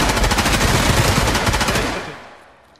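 A loud, close burst of rapid automatic gunfire from the online shooter game Escape From Tarkov rattles continuously for about two seconds and then dies away into a short echoing tail.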